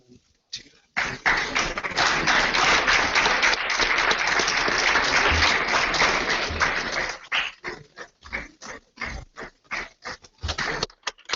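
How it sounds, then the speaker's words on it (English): Applause at a film festival awards ceremony rises for an award winner, a burst of dense clapping for about six seconds, then scattered claps and a voice under the dying applause. "Huge round of applause for Lekha"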